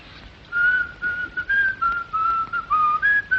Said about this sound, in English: a scrap of music whistled in the night